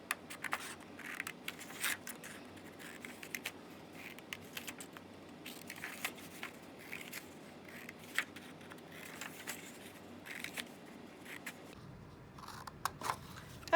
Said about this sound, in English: Just cut to the end of the mark with your scissors.